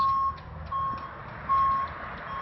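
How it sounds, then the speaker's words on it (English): A vehicle's backup alarm beeping while reversing, three steady high tones spaced about a second apart over a low engine rumble, nearby and fairly loud, no talking. "He doesn't need a backup noise."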